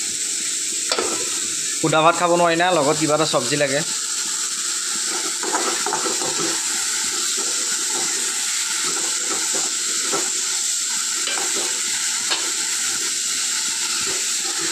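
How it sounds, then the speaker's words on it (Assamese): Leafy greens and squash fry in a little oil in a home kitchen, giving a steady, close sizzle and hiss throughout, with occasional stirring and someone speaking briefly over it. "আৰু এইফালে স্কোৱাছ ভাজি আছোঁ"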